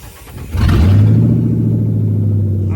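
A Ford Crown Victoria running an E2000 fuel pump cranks and catches after a brief lull, then settles into a steady, loud, low idle rumble close by.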